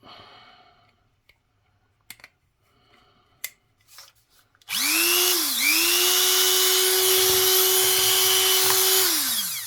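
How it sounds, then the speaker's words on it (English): A Dremel rotary tool grinds a 1938 British bronze penny being made into a ring. After a few quiet clicks and handling knocks, it roars in at full speed with a loud, steady whine that briefly dips in pitch under load. "my Dremel's on the way out, I think. It's either full throttle or nothing."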